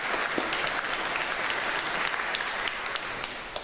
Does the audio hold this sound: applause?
yes